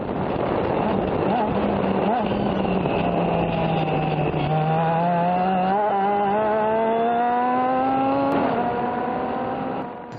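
A race car engine at Auto Club Speedway during a club race, with the car suffering gear-shifting problems, drones loudly and steadily from inside the cockpit, its pitch sagging and then climbing slightly before a brief dip near the end.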